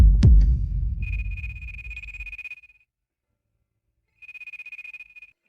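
A sharp thud decays into a rumbling tail as a telephone's buzzing ring starts, pauses, then sounds again in a rapid pulsing burst.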